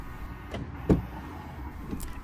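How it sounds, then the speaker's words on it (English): Door of a 2017 VW Passat being opened: a soft click, then a single firm mechanical clunk at close range, with a faint follow-up rattle and no talking. "open the driver's door"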